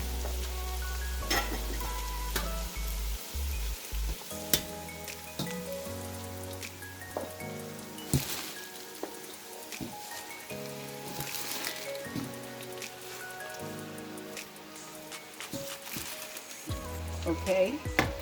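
Collard greens crackle and sizzle steadily in a hot pan with oil, a dense frying hiss that continues under soft background music and faint stirring.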